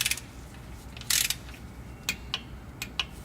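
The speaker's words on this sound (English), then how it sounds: "using my torque wrench, I'm going to torque these bolts down to 100 inch-pounds each" Torque wrench tightening bolts on an automatic transmission during a pressure solenoid repair, heard as a burst of ratcheting near the start followed by several sharp, isolated clicks, close and fairly quiet, with no talk.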